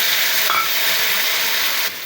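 Two hog plums hit hot oil with already fried chopped onion and garlic, setting off a loud, steady, close sizzle that hisses without a break and eases slightly at the end.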